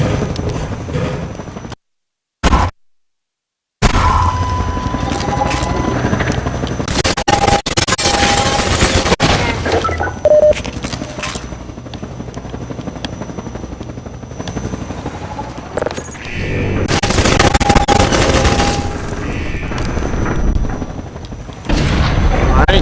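In Half-Life 2, an attack helicopter's loud droning rotor roars almost throughout, over bursts of heavy machine-gun fire and booming blasts, with brief silent gaps near the start.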